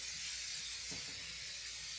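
A Dupray Neat steam cleaner releases a steady, continuous hiss of steam that runs unbroken and fairly loud throughout, with a faint soft thump partway through and no voices.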